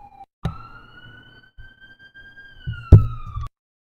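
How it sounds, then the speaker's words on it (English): A police car siren wails as the vehicle passes, its rising and falling tone broken by a couple of sharp knocks and rumbles, loud and near, with no talk. "Gonna mute this while the police car comes by."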